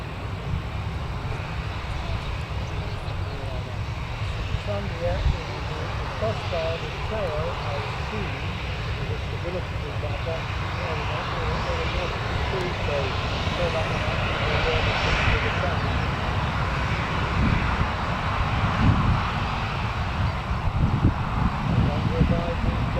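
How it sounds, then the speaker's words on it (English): Ryanair and Jet2 airliners at Newcastle Airport rumble steadily with a broad, continuous jet roar that swells and fades slightly over time, heard from a distance with a person talking over it. "Got a Ryanair coming in as well, Jet 2 and then a Ryanair."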